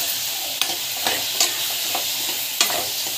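Sautéing in a pan with asafoetida, a continuous soft sizzle punctuated by several sharp spatula scrapes and taps from stirring, close and without talk.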